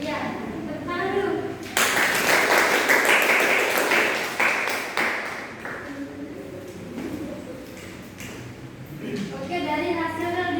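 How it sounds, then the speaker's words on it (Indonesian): Classroom applause during a secondary-school Islamic studies micro-teaching lesson, a burst of clapping from students that swells loudly then fades over several seconds, with voices and chatter mixed in. "Iya, tepuk tangan dulu."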